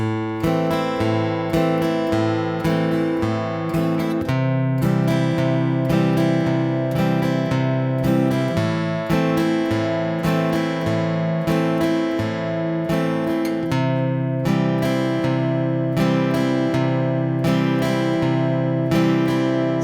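An acoustic guitar strums chords in a steady rhythm with quick up-and-down eighth-note strokes, close and clear with no voices.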